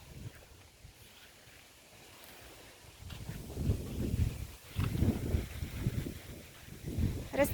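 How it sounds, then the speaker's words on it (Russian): Wind gusting through a rose garden in bloom, a low roaring rumble that swells and buffets the microphone in waves, quieter at first and stronger in the second half, with no one speaking. "Вот такой вот ветер."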